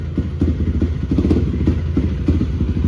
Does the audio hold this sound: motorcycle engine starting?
yes